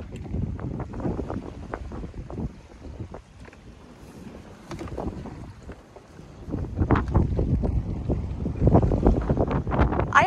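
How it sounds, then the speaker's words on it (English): Strong gusty wind from Tropical Storm Bret buffets the microphone in rough surges on a sailboat, easing in the middle and then roaring back harder, with no voices. "It's too windy."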